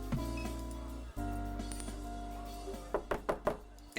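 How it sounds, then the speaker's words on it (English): In the video game NORCO, a secret knock on a door lands near the end as four quick, sharp raps in a tight rhythm, heard clearly over a steady low hum. "And Catherine knocks on the door and hears the subtle sound of it unlocking."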